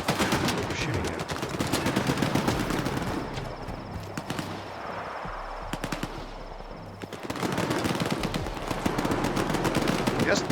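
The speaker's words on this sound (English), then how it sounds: "They're shooting at me." Enemies firing guns at the player in the video game Stalker 2, rapid continuous automatic gunfire bursts crackling loudly, easing briefly in the middle before resuming just as intense.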